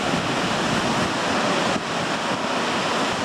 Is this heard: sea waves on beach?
yes